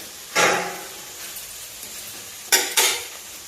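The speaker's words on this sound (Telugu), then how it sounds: "మెంతులు అర స్పూను ఒకసారి తిప్పేసుకున్నాం కరివేపాకు కూడా వేసుకున్నాం" Fenugreek seeds and curry leaves stirred in a hot oiled pan for tamarind onion chutney, with a few sharp bursts of sizzling and metal scraping against a quiet background, close by.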